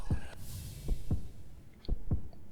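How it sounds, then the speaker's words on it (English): Heartbeat in the video game Hollow Knight, deep paired thumps repeating at a slow, steady rhythm, loud and close over a faint atmospheric hum. "Ugh, that sound of the heart beating."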